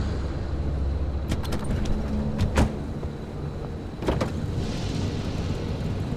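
Car driving sounds from the video game Pacific Drive: a steady engine drone runs throughout, broken by a few sharp mechanical clunks and thuds, heard alone with no talk.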